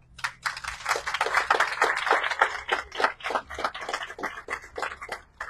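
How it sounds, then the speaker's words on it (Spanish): Scattered audience applause for two prize winners at a raffle prize ceremony, a few sets of hands clapping unevenly in quick irregular bursts. "les pido por favor un aplauso a las dos ganadoras"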